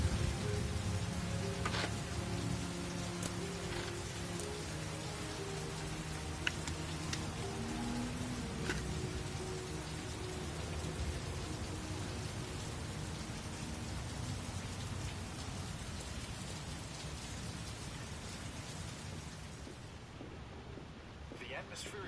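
Heavy rain pours steadily in the game Heavy Rain, a dense continuous hiss of drops on surfaces with faint low rumbles, going on throughout before easing slightly near the end.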